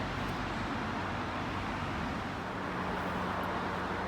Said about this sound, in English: So I apologize for the traffic noise.